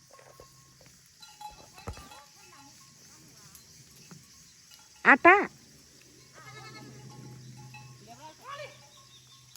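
A herd of goats in a rural hillside setting, with a few short bleats and animal calls scattered over a faint outdoor background while someone talks intermittently nearby.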